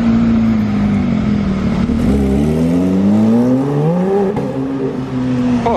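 A supercar accelerates hard nearby, its engine note climbing steeply, dipping briefly at a quick gear change, then rising again in a loud, continuous rev with no talk over it.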